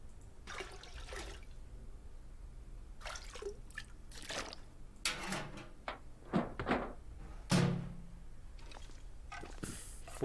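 Water drips and splashes from a toilet being drawn on in The Long Dark survival game, a series of small liquid trickles and knocks at moderate level with some faint clunks between them.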